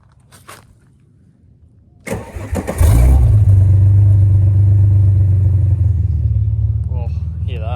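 A Ford Falcon E-series sedan from around 1989–1994 cold-starts: a short whirring crank, then the engine catches and settles into a steady, loud idle close by, with a voice briefly heard toward the end.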